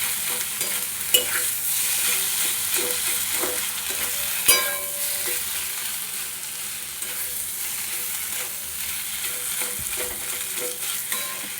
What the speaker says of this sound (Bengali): দিয়ে দেবো পরিমাণ মতো লবণ, দিয়ে আলুটা খুব ভালোভাবে কষাবো।